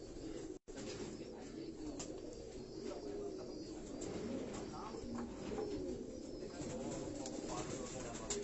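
Pigeons kept in a large flock by a Karachi fancier coo steadily in the background, with soft calls and rustling over a constant ambient hiss.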